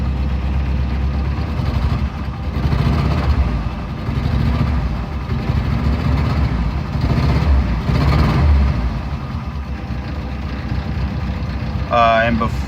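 A 1990 Jeep Wrangler YJ with a 2.5L four-cylinder engine idles steadily at a raised speed, a continuous low rumble with a voice heard at times over it.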